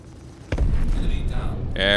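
Data skimmers blowing up in the space game Star Citizen: a sharp burst at about half a second gives way to a rumbling, crackling explosion, and a bright tonal game effect follows near the end.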